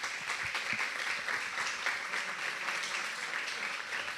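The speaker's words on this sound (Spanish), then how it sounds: "Les pido un aplauso." An audience at a post-screening film presentation with the directors and editor breaks into steady applause, a dense crackle of many hands clapping that is moderately quiet and sustained for the whole moment.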